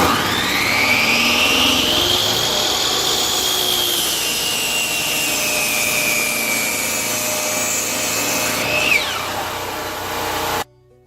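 A power saw cuts through a chunk of 4x4 lumber, a loud continuous whining buzz whose pitch sags and rises as the blade works through the wood, ending abruptly when the cut finishes.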